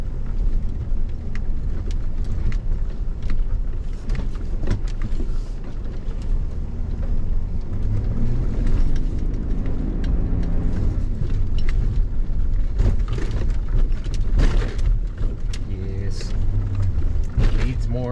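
A GMC AT4 pickup truck driving off-road over desert terrain, with loud continuous engine rumble, suspension thumps and rattling over bumps, recorded close throughout.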